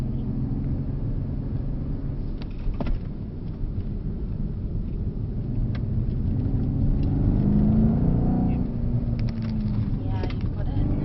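A Mercedes car brakes smoothly and steers into a corner, heard from inside the cabin as a steady low engine and road rumble with a brief tyre-like tone, while people talk over it.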